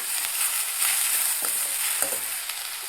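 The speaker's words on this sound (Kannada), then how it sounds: "ಎಲ್ಲವನ್ನು ಚೆನ್ನಾಗಿ ಮಿಕ್ಸ್ ಮಾಡಿಕೊಂಡು ಇನ್ನೊಂದು ನಿಮಿಷ ಫ್ರೈ ಮಾಡ್ಕೊಳ್ಳೋಣ" Chutney ingredients with curry leaves and coriander fry in a pan, giving a loud, continuous sizzle broken by a few spatula scrapes and taps while being stirred.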